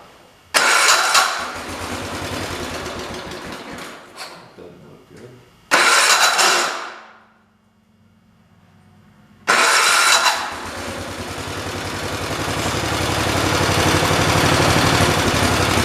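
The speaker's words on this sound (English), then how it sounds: "Let me go on ahead and fire it up for you guys so you can listen to it run." A 1973 112 tractor engine cranks and catches, then runs loudly close by and cuts out. After a short near-silent gap it fires up again and runs steadily, rising toward the end, with someone speaking briefly over it.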